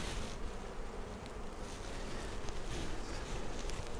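Honeybees buzz steadily in an open hive while its frames are worked with a hive tool, a dense, continuous drone that stays close and loud throughout with no talk.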